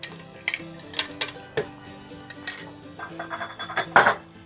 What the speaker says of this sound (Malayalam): ആദ്യം കുറച്ച് ഐസ് ക്യൂബ്സ് ഇടാം